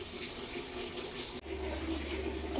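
Running water splashes steadily into a container at close range to soak something at home, with a brief break partway before the flow resumes, lower and fuller.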